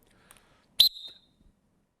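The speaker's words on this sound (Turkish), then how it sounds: "Bak şimdi böyle elini alıyor, düdüğü çalıyor" A referee's whistle during a football match, one short sharp blast that is loud and close, standing alone against near silence.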